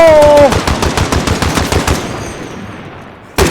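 Player-operated machine gun turret in Call of Duty Warzone fires a loud, rapid burst of evenly spaced shots that trails off into echoing decay, with a sharp new shot at the very end.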